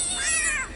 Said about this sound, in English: the cat is radical too